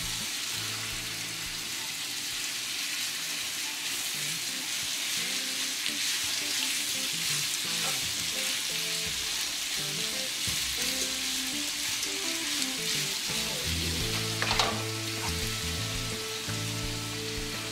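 Philly cheesesteak meat and vegetables fry in a pan with a dense, steady sizzle, punctuated by scraping and stirring of a utensil throughout, close and even in level with no talk.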